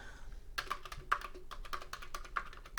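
Keys clatter on a TI-99/4A computer keyboard in a quick, irregular run of taps, close and fairly quiet, with no talking.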